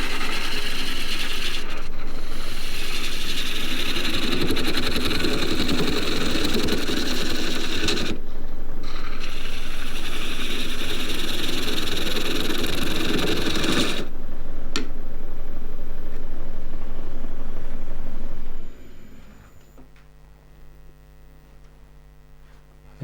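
Wood turning on a small lathe with a 1-inch skew chisel, shaping a large chess pawn: a steady, loud scraping and ratcheting whir in bursts with brief pauses, ending in a quieter mechanical hum.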